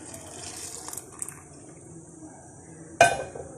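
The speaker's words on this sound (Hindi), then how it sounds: "अब मैं दूध डालूंगी और दूध के अंदर इन चावलों को मज़ीद पकाऊंगी।" Milk being poured into a pot of cooking rice for kheer makes a soft, steady liquid trickle with light scattered taps, then a sharp metallic clank of the pot near the end.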